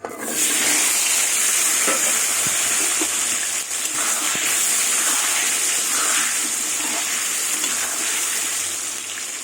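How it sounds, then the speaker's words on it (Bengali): Potatoes fry in hot oil in a pan, a loud, steady sizzle that fills the whole stretch without a break, with no talk over it. "এবার আলুগুলো ভেজে নেব"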